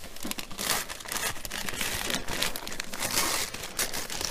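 Paper and plastic wrapping from a mailed package crinkles and tears steadily as it is pulled open, a close, continuous rustling with sharp crunchy bursts and no talking.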